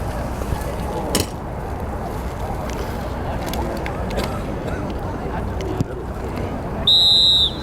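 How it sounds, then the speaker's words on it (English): A referee's whistle sounds near the end of an under-17 youth soccer match, a short loud blast standing out over a steady outdoor crowd murmur and field noise. "And that is the whistle, the score ending 5-0 in favor of City SC."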